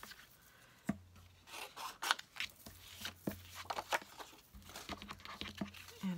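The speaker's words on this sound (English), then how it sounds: "And then I'm going to take my scissors" Scissors snip through paper in a series of short, crisp cuts with soft rustling between them, close and fairly quiet.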